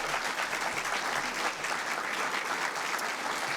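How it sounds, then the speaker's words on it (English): Sustained audience applause at a New Rochelle State of the City address, honoring library and school trustees; dense, steady clapping fills the whole stretch at an even level. "Let's please give them a round of applause and thanks for their volunteer service."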